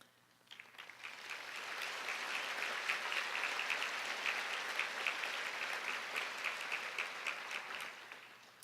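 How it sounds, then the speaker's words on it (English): A luncheon audience at a YWCA fundraising event breaks into broad, sustained applause that swells within a second and holds steady at moderate volume until the end, with no voices over it. "That is worthy of clapping."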